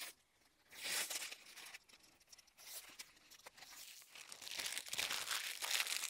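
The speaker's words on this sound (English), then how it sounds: "peel the top layer of the Bondaweb away" Paper backing of Bondaweb fusible web peeled away for a felt flower brooch, giving soft, close crinkling and tearing rustles that swell in two bursts, quiet between.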